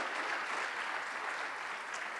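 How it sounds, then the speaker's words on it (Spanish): Church congregation applauding together, a steady, dense wash of hand claps that holds evenly throughout and sounds moderately distant. "Démosle una ofrenda de palmas al bendito Señor por esa bendición"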